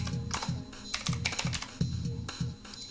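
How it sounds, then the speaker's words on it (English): Quick, uneven keystrokes clatter on a computer keyboard, close and fairly crisp, arriving in short bursts with small pauses between them. "we just type in what it says."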